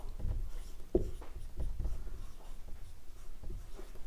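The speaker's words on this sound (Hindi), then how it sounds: "इसको मैं बॉक्स में लिख रही हूँ" Chalk or marker writing on a board during a geography lesson: faint, irregular scratchy strokes in short bursts, close and quiet, with no talk over them.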